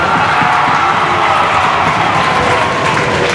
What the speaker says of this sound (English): Let's give Connor a nice round of applause.